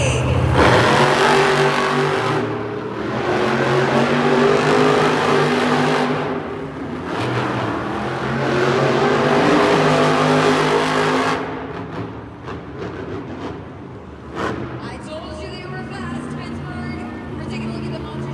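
Monster trucks at a Monster Jam event in an arena, loud engines revving in long surging roars that build and drop several times, with a crowd and announcer voice mixed in before quieter rumbling at the end.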